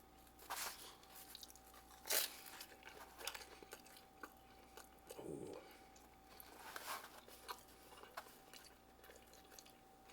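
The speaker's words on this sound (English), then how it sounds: "Someone's gonna say I didn't bite the pizza. I did." Close, quiet crunching and chewing of a Papa John's garlic parm stuffed crust pizza, with several sharp bites and wet mouth sounds spread unevenly across the stretch and no talking.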